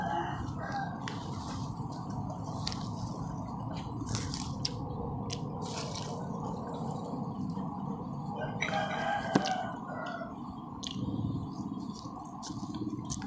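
A rooster crows at a distance over a steady outdoor background hum, with a few short clucks and clatters, fairly faint and under the ambient noise.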